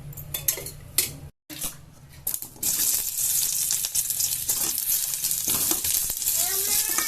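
Garlic, ginger and chilli masala fries in a little oil, starting with clinks of cookware and utensils, then breaking into a loud, steady close sizzle with scraping stirs.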